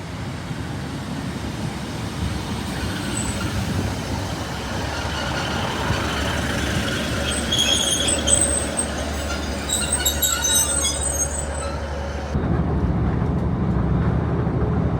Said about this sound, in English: It should be that class 156 diesel multiple unit 156410 and will take us to Delamere.